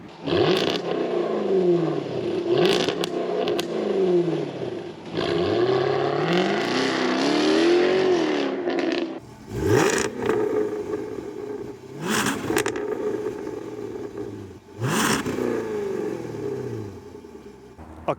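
A facelift Jaguar F-Type without the muting exhaust mat revs hard in repeated loud bursts, the engine climbing and dropping with sharp exhaust cracks between pulls, close and with no talk.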